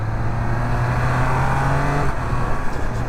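A Triumph Speed Triple 1200 RS motorcycle engine pulls hard under acceleration, a loud steady roar rising in pitch, then briefly shifts with the quick shifter near the end, close to the rider and without voices.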